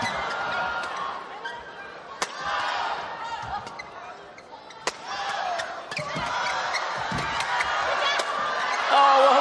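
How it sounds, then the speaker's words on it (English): Crowd at a badminton semifinal of the Macau Open cheering and shouting through a doubles rally, a steady roar broken by sharp shuttle smacks and shoe squeaks, with a commentator talking over it. "And the crowd getting involved."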